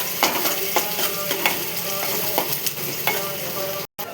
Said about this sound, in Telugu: ఈ గోల్డ్ కలర్ వచ్చేదాకా బాగా ఎంచుకోవాలి నూనె